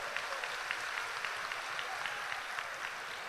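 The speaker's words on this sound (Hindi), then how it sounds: "एक बार जोरदार तालियां इनके लिए हो जाए।" An audience at a public gathering in honour of a man who donated his land breaks into steady, dense applause that holds evenly throughout without pause.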